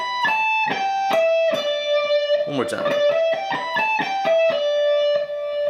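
An electric guitar plays a quick, clean-toned lick, a run of distinctly picked notes with a short flurry in the middle, close and clear, with a brief spoken phrase over it.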